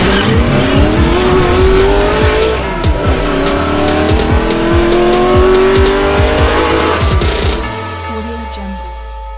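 A Nissan GT-R Nismo driving hard, engine note rising and falling through gear changes with repeated tire squeals and skids, loud and close for most of the stretch before settling into a lower, quieter idle-like drone at the end.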